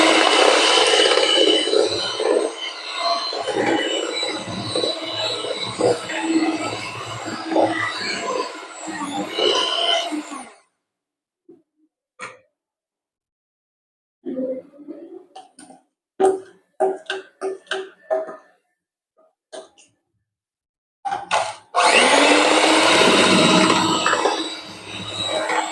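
An electric hand mixer beats eggs into cake batter for a cake made without oven or butter: a loud, steady whirring for about ten seconds, then a quiet stretch of scattered clicks and taps, then a final burst of whirring.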